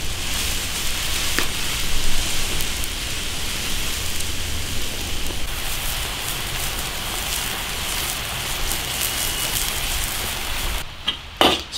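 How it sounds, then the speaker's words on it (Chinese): Rain falls steadily, a dense, even hiss that continues throughout and sounds close and fairly loud, then breaks up with a few sharper knocks near the end. "下雨了"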